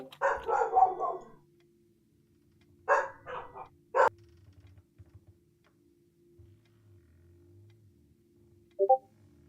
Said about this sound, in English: I love both of those loud dogs behind him because there's two.